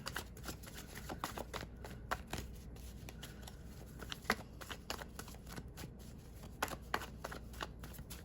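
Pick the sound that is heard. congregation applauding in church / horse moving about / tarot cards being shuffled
tarot cards being shuffled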